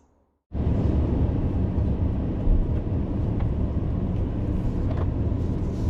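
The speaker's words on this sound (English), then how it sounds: "we are taking off slowly in this Rolls" A 2023 Rolls-Royce Cullinan pulls away slowly, a steady low engine and road rumble starting abruptly after a short silence and holding even throughout.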